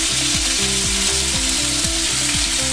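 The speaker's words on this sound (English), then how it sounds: "fry it off really heavy really hard get a nice amount of color on it" Minced beef fries hard in a hot pan in a small batch, giving a loud, dense, continuous sizzle that stays steady throughout, with no voices.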